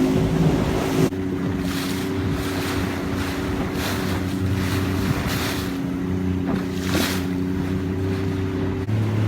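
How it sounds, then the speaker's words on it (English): A 2007 Zodiac Pro 7-man inflatable boat running at speed on open sea, its Yamaha 40 HP two-stroke outboard giving a steady droning hum beneath loud rushing wind and splashing water. "Boat's going good."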